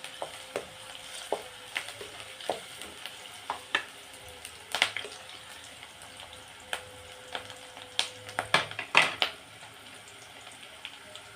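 Ginger garlic paste frying in oil in a pan, a faint background sizzle with scattered light spatula taps and scrapes, busier toward the end.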